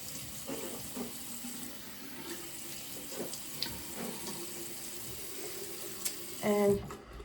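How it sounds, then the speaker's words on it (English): Water runs steadily from a bathroom sink tap during face rinsing, a soft constant hiss under the room's background with a brief louder splash near the end. "I'm actually rinsing with partially cold water. It's not hot water."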